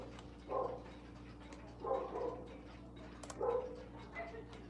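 Several dogs bark indoors in faint, separate bursts, spaced a second or two apart, under a quiet background hum.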